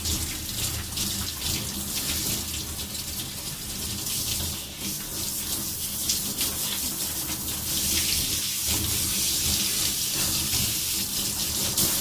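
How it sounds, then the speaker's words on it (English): Tap water pours steadily over a dog's head and ears during a grooming bath, a loud continuous splashing rush with slight shifts in flow throughout. "you can run that water right over their head, those ears, and not get any soap in them"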